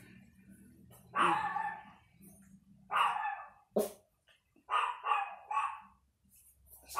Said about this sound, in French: C'est petit, mais ça aboie beaucoup.